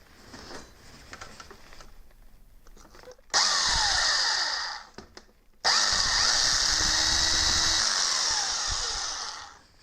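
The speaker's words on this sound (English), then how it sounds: "I will use my smallest drill bit for the first run." A power drill fitted with its smallest bit bores into a camera stand, whining loudly at a steady pitch in two bursts of about two and four seconds, separated by a short pause and preceded by quieter handling noise.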